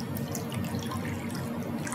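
Water being added to honey for a poaching syrup for peaches, a steady running trickle like a tap pouring continuously at close range with no voices.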